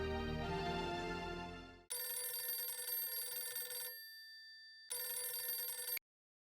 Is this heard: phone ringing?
yes